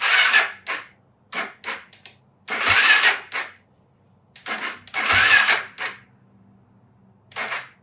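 Yamaha YFZ450 ATV engine cranking on its electric starter in several short bursts separated by pauses. The engine spins but never catches.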